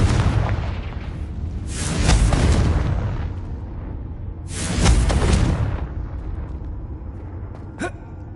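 Two booming fire-spell blasts from Hogwarts Legacy on PS5, each a loud broadband burst a few seconds apart, with rumbling low end and a short sharp pop near the end.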